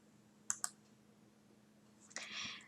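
Two quick computer mouse clicks sound close together, faint and close in a quiet room, followed by a soft rustle.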